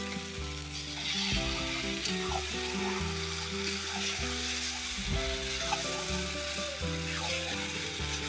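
Country chicken pieces hit spiced masala frying in a pan, giving a steady loud sizzle with brief stirring scrapes, while a low, stepping musical tone runs underneath throughout.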